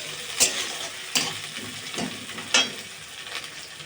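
Green chillies and beans stir-fry in a pan for chow mein, a steady soft sizzle broken by four or five spatula scrapes, quiet and close, with no talking.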